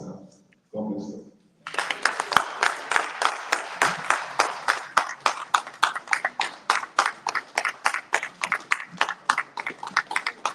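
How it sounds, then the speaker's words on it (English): A congregation at a gathering starts rhythmic clapping after a brief spoken phrase. Sharp, loud unison claps repeat at a steady beat, roughly two or three per second, and go on for several seconds. "Continue clapping, continue clapping, continue clapping."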